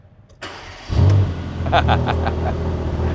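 A Mercedes-AMG GT Black Series engine cranks briefly, catches and settles into a steady, close-up idle rumble, with a few light clicks over it.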